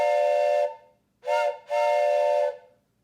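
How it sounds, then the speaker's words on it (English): A toy train whistle gives a steam-train-style chord-like toot. There are three loud blasts: a long one, a short one, then another long one, each ending cleanly with silence between. "This is a toy train whistle, but you're accustomed to hearing this sound, I think."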